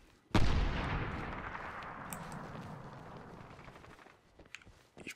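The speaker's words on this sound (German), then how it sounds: "Ich höre da auch schon Schüsse da hinten." A single heavy gunshot or blast in the Medal of Honor Warfighter video game booms sharply, then rolls away in a long fading echo, with a few faint distant pops near the end.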